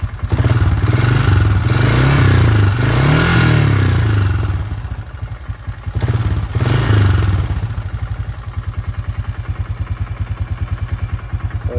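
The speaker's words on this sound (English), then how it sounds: "You know, the exhaust does sound better now." A Honda Fourtrax 300 ATV engine with a new exhaust rumbles loudly nearby, revving up and down a few times before settling into a choppy, pulsing idle, with some clatter.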